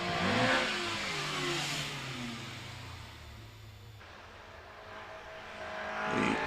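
A Caterham 7 sports car with a 1600cc engine races up the Prescott hillclimb, its engine revving hard as it approaches and passes, then fading away before another engine note rises near the end.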